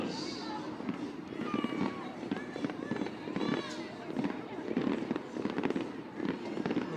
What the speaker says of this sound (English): The fireworks are a little early right now over at the entertainment district here in Rosemont.